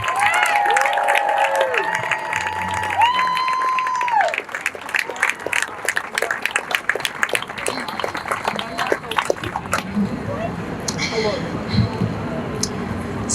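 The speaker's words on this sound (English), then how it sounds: "Please give Miriam a round of applause." A crowd at a Brooklyn gathering applauds as Rabbi Miriam Grossman is brought up, steady clapping mixed with whoops and cheers that thin out toward the end, with voices calling over it.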